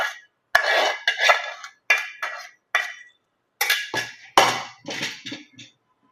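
A spoon clinks and scrapes against a pot in quick bursts of separate metallic taps and scoops as Bombay chutney is moved into a bowl. The taps come close and clear, with short silences between them.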